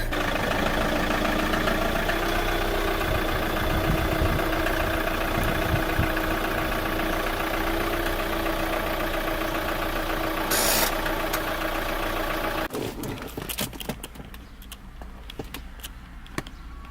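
A manual car idles while parked, a steady, loud engine drone for about twelve seconds that then cuts out abruptly, leaving only faint scattered clicks and rustles.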